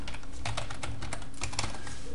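Rapid key presses on a computer keyboard while a new folder is named in a C# project, a steady run of close, crisp clicks with faint background hum and no speech.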